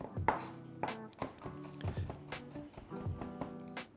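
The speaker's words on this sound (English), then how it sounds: "I'm just doing a really rough chop, cutting it nice and thin." A knife roughly chopping garlic on a cutting board for slow-cooker shakshuka, with a steady run of close, sharp taps spaced about every half second.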